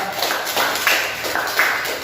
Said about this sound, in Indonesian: Tepuk tangan semuanya ya